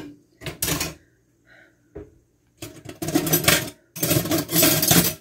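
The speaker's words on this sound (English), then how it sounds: "All you can hear is the water running." Water runs steadily from a kitchen tap while dishes are rinsed, coming in loud, close bursts with brief quiet gaps and a few clinks of crockery in between.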